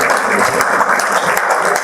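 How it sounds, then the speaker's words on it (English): An audience claps steadily and loudly for incubatees at an incubator forum inauguration, a dense continuous applause with no voices over it. "Let us all keep clapping for all these incubatees."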